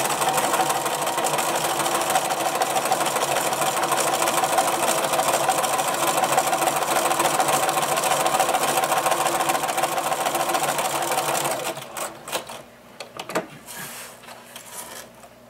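A sewing machine runs a zigzag stitch along a fabric edge for a simple pencil case, a steady, loud, close mechanical whir for about twelve seconds before stopping, followed by scattered clicks and fabric handling.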